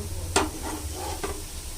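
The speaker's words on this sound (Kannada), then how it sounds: "ಇವಾಗ ಉಲ್ಟಾ ಮಾಡಿ ಎಣ್ಣೆ ಹಾಕಿ ಸ್ವಲ್ಪ ಬೇಯಿಸ್ತಾ ಇದ್ದೀನಿ." Thin bottle gourd roti, flipped and cooking in oil on a pan, gives a soft steady sizzle with two short scraping or tapping touches, close by and fairly quiet.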